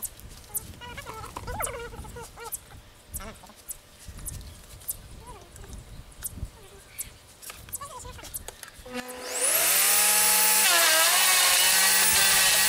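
A garden shredder chipping apple tree branches starts up loudly near the end, becoming a steady high whine and grinding roar, after a stretch of talk and scattered handling noises.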